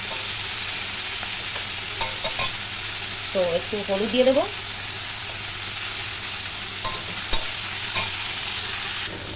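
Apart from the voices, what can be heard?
okra and tomato frying in oil, being stirred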